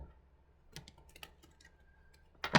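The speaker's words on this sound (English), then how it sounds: "Just doing a small shuffle here." A small deck of cards being shuffled by hand gives off a run of quiet, light clicking ticks. It ends in a brief, louder papery riffle, close by, with nobody talking.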